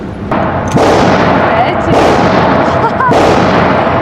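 Sharp cracks at steady intervals over a continuous noisy background, with faint voices; a run of 9 mm gunshots from an AR-15 rifle at a shooting range, loud and close.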